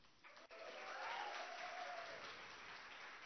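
An audience at a live Pecha Kucha event in Bengaluru breaks into steady applause and cheering that swells and holds for several seconds at a moderate distance.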